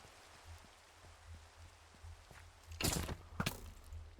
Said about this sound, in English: Why does it have to rain right now?